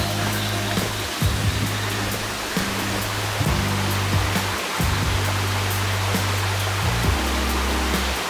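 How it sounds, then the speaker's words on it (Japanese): A small trickling waterfall near Biwa Falls on the mountain trail of Mt. Takao gives a steady, broad rushing hiss, with low rumbling bumps of handling or wind recurring through it. "ちょろっとちっちゃい滝がありますよ。"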